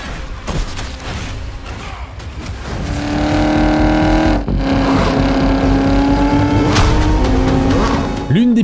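A car engine in the racing video game Test Drive Unlimited Solar Crown revs loudly and climbs through gears, with tire squeal and whooshing passes, rising in pitch and dropping back in repeated surges.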